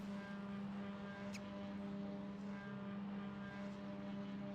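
TCR touring race cars revving their engines on the starting grid at Silverstone National circuit, a steady loud droning engine note sustained throughout with no talk.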